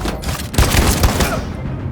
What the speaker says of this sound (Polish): Niezły strzał, Conor.